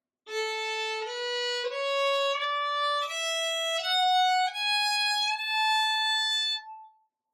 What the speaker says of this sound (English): This is what a bow stroke sounds like without a slur.